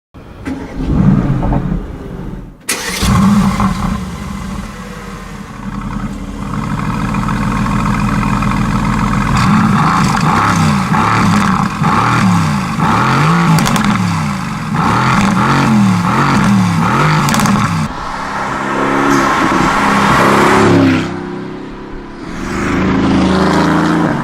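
A Mercedes-AMG GT S with a 4.0-litre twin-turbo V8 starts with a sharp bark and then settles into a loud, close idle. Repeated deep revs rise and fall in a rhythm before the engine drops back.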